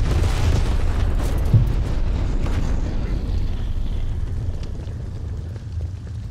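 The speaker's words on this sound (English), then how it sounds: "Weird placement for a napalm strike." Napalm strike in Black Ops Cold War erupting in a loud, sustained roar of fire and rumbling booms that slowly fade over several seconds, with no voices.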